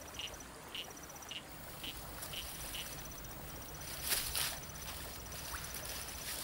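A giant barred frog calls in a natural setting, a series of short evenly spaced clicking notes repeating steadily over a dense background of insect and night chorus noise.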